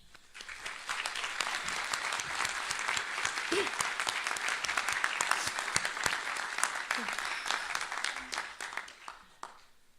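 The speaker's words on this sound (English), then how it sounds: "join me in applauding the family, friends, faculty, and others in your life who have helped you get here today" Sustained applause from a large graduation commencement crowd at Nichols College honoring family, friends and faculty, dense steady clapping filling the full stretch with a few faint voices mixed in.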